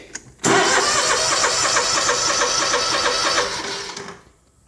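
An engine with a brand new carburetor cranks loudly and steadily for about three seconds without catching, then the cranking fades away into quiet, with no voices present.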